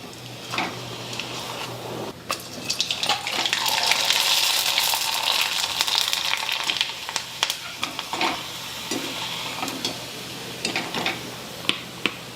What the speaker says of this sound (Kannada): ಈಗ ಎಣ್ಣೆ ಕಾಯ್ದೈತ್ರಿ. ನಾ ಮಾಡ್ಕೊಂಡಿರೋ ಹಪ್ಪಳ ಬಿಡ್ತೀನಿ ನೋಡ್ರಿ.